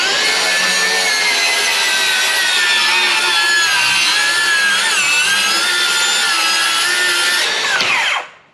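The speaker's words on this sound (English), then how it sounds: "let's do the big bad Dewalt and see what it can do." A DeWalt circular saw cuts through wood, a loud, steady high whine held for about eight seconds before the blade spins down.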